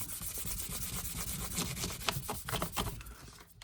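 Fine 3000 grit sandpaper rubs over wood while a wooden box mandolin is built, giving close, steady abrasive strokes that pick up into short rhythmic swipes near the end, with no voices.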